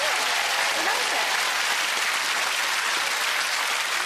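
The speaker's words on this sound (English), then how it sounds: "Give them a round of applause." Loud, dense applause from a large audience, continuous and even throughout.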